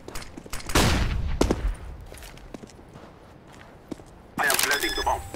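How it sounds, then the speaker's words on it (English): A flashbang grenade thrown in Counter-Strike on de_dust2, a run of sharp gunfire-like cracks and bangs with a loud bright burst near the end, under faint voice chatter. "Throwing a flashbang."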